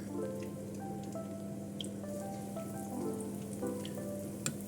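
Pieces of chicken fry in hot oil with a steady close sizzle, scattered crackles and pops riding over a constant low hum.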